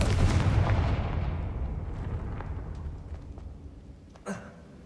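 A fiery Confringo spell explosion in Hogwarts Legacy bursts with a loud booming blast, then rumbles and fades over several seconds, ending with a brief sharp crack near the close.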